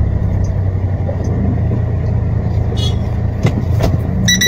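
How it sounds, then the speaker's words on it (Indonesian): Car on the road ahead, heard from inside a moving vehicle as a constant low engine and road rumble, with brief clicks and faint higher noises near the end. "Ada mobil di depan."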